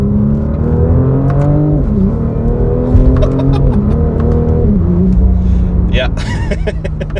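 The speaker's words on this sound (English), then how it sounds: "When I will be pressing that button in a minute, you will see that this car just launches insanely quick." A new Audi RS5 engine surges hard and climbs in pitch through several upshifts after its boost button is pressed, a loud, close cabin roar on an alpine drive, with a voice briefly speaking over it.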